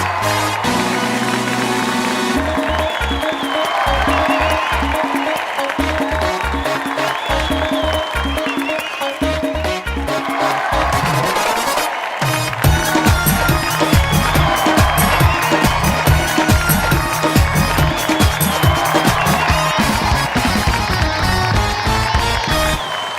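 Loud studio audience applause and cheering at a comedy talk show as cricketers Shikhar Dhawan, Suresh Raina and Hardik Pandya are welcomed, sustained over heavy music with drums, swelling louder in the second half.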